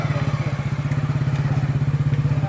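A motorcycle engine runs close by in a traffic jam on a detour road after a bridge collapse, giving a steady, rapid putter of even pulses throughout with no talk.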